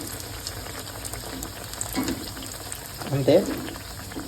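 Bread pieces frying in oil, a low steady bubbling hiss with a couple of brief louder bursts, under a short spoken word.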